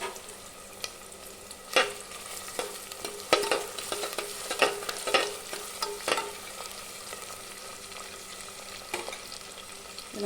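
Small onions and curry leaves sautéing in oil in a pan, a continuous crackling sizzle broken by repeated scraping stir strokes, close and fairly loud, with no voices.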